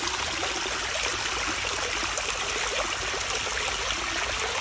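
A river at a release site flows steadily, making a continuous broadband rushing and trickling wash, close and fairly loud, with no talk.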